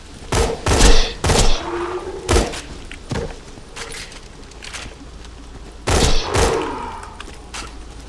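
A double SMG with a twin-shot accessory, made by Tediore, fires in Borderlands 2 in short loud bursts of booming, thudding reports separated by pauses. Gameplay ambience fills the gaps and no one talks.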